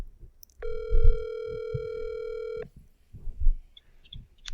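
A phone call is placed with a steady, loud dial tone that lasts about two seconds. Soft bumps, handling noise and faint electronic beeps can be heard around it.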